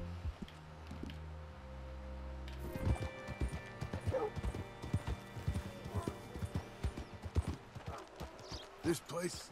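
A horse's hooves clip-clop at a walking pace in Red Dead Redemption 2, a steady close rhythm with occasional snorting, after a quiet opening.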